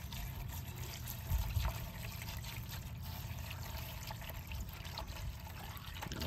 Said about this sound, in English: This is 2 gallons of water. Oh, we're gonna dump this in and we'll see what happens.